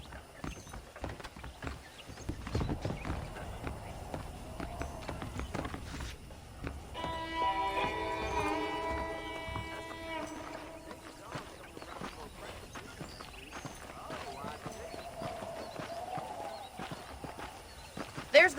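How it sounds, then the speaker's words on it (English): Saddled horses in the Red Dead Redemption video game, their hooves clip-clopping at a walk with a brief whinny midway, heard under and between bursts of character dialogue. "The horses are saddled up over here."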